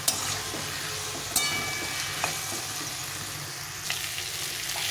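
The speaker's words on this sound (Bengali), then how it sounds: "এটাকে সুন্দরভাবে কষিয়ে নেব মশলার সাথে ভালোভাবে কষিয়ে নিতে হবে" Potato and raw banana sautéed with spices and a splash of water in a pan. A continuous close sizzle carries a few distinct spatula scrapes and taps, with no voices.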